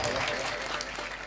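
Applause for a women's bhajan singing group at a Marathi kirtan, a faint, steady wash of clapping from a distant crowd lasting about a second.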